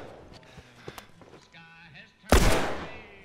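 Gunfire in The Last of Us video game, one loud, sharp blast bursting near the end after a stretch of quieter footsteps and scuffling.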